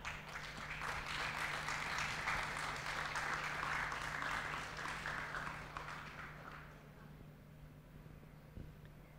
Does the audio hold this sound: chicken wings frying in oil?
no